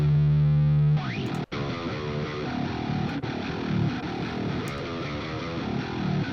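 Heavily distorted electric guitar plays thick, saturated riffs through a high-gain amp, with a brief sustained tone at the start and a short dropout.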